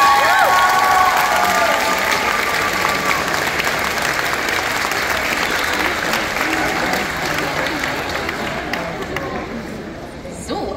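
A crowd at a cosplay contest in Bremen applauds a performer with loud, sustained clapping mixed with cheers and some chatter, tapering off toward the end.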